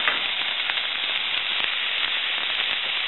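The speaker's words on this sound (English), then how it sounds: "Hear that sizzle?" Steady, loud sizzling and crackling of celery frying in a hot pan, continuous throughout with no voices.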